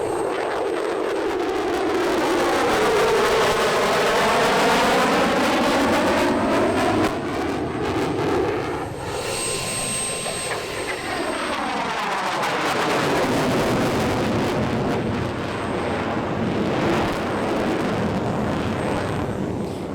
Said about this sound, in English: the US Air Force F-22A Raptor Demonstration Team